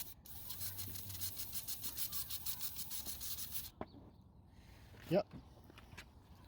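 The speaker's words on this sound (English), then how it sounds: "give it a little bit wipe like that, small gentle wipe, and it's done" A cleaned spark plug from a Lexus RX300 is rubbed with a cloth and brake cleaner in steady, rhythmic wiping strokes that then stop, followed by a few soft handling clicks.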